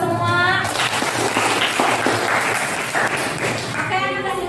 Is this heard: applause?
yes